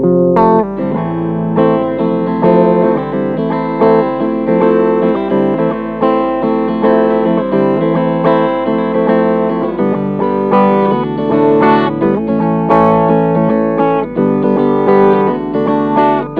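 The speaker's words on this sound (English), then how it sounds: "this is the clean sound before we turn on any pedals" Clean electric guitar tone from a preamp straight into a cabinet with no pedals, played continuously and loud with strummed chords and single notes ringing throughout, no voices.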